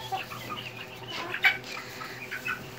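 Speckled Sussex and Barred Rock hens cluck softly nearby in short, scattered calls over a low background hum, with one slightly louder cluck midway.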